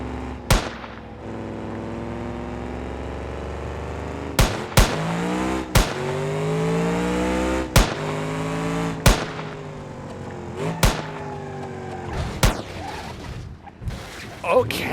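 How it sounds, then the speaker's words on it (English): Car engine in BeamNG driving game letting off a string of sharp backfire pops, about ten loud cracks scattered irregularly over a rising and falling revving engine note, with a voice talking at times. "Backfires when it starts."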